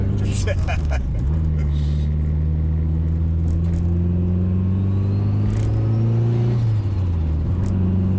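A Mitsubishi Evo 8 GSR with a 500+ BHP engine hums at a low, steady pitch inside the cabin. A couple of rises and drops in revs and a faint hiss come through while people talk over it.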